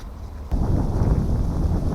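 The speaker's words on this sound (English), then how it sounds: "It's a little windy" Wind gusts on a city nature trail in November, a low rumbling rush that jumps suddenly louder partway through and stays steady and close to the microphone, with no voices.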